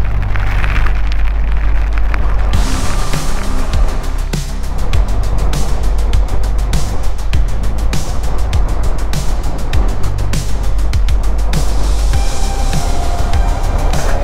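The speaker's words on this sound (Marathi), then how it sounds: "तुम्ही बघू शकता पाऊस चालू झालेला आहे" Rain drums on a moving vehicle during a drive on a winding road near Rajapur, a loud dense patter over heavy low engine and road rumble, with rhythmic clicking and no talk.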